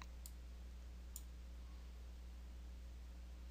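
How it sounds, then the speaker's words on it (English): Two faint, sharp mouse clicks, one near the start and one around a second in, over a steady low electrical hum as a software button is pressed. "Click the Specify button."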